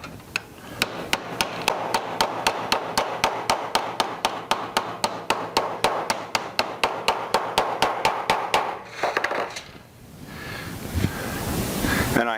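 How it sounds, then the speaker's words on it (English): Steady, evenly spaced hammer blows on sheet metal while it is flattened and bent over, about thirty loud sharp metallic strikes in a row, then a brief pause and some rustling handling noise. "So I'm going to take my hammer"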